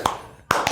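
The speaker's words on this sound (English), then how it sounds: "Slow clap." Two sharp, separate hand claps spaced about half a second apart, loud and close with a quiet gap between, in a slow deliberate rhythm with no talk over them.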